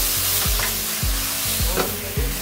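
Chicken pieces fry in a hot pan for chilli chicken, with a loud, steady sizzle and recurring scraping strokes of stirring.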